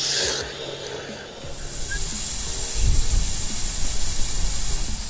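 An above-ground garden sprinkler sprays water outdoors with a steady, broad hiss that runs throughout, over a low rumble of handling and movement nearby.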